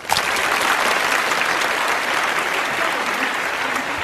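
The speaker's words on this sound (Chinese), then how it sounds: "大家这么热情的掌声" Audience applause at a book talk fills the space, a dense, steady clapping from a crowd that holds evenly loud throughout.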